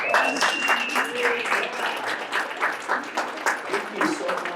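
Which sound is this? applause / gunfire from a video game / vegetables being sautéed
applause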